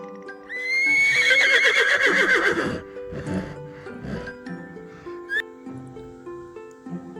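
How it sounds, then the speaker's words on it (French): A horse neighing: one loud, close, drawn-out whinny with a quavering fall in pitch, followed by softer snorts and breathy sounds against a faint musical background. "Cheval."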